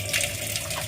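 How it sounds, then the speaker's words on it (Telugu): Starchy cooking water is poured off a pot of boiled rice during chicken dum biryani preparation, a brief, steady rush of splashing liquid close by. "ఇప్పుడు గంజి వంపేసుకుందాము."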